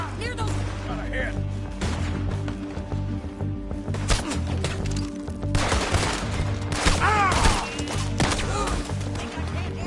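Red Dead Redemption 2 gunfight: rapid bursts of loud gunshots and volleys crack throughout, mixed with game music, shouting and characters talking.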